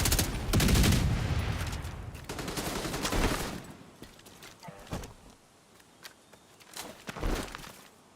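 Gunfire in the video game Division 2, with sharp, loud shots and bursts early on, then scattered single cracks spaced out over several seconds, some near and some more distant.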